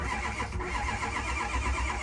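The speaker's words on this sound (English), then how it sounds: "Oh, you can hear the starter." A built Ford 6.0 Powerstroke diesel cranks on its starter, a loud, close, continuous grinding churn with a low pulsing rhythm throughout.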